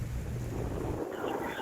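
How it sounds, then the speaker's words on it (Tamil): Heavy rain driven by strong wind batters the microphone in a steady, loud broadband roar with low rumbling gusts, continuous throughout and without any voices. "விராலிமலையில் பலத்த காற்றுடன் மழை பெய்து வருகிறது"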